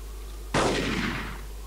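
A single loud sniper rifle shot in the video game Devastation, a sharp crack that fades through a long rolling echo over steady background hum.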